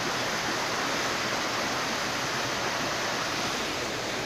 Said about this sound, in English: You'll have to settle for some creek.